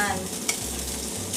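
Ham and egg fried rice with green peas is stirred in a hot pan, giving close, steady scraping over a soft sizzle with one sharp clink of the utensil.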